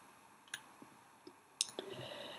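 A few sharp mouse clicks, sparse and fairly quiet, as the create button is pressed while setting up a new Google Site, with no talking.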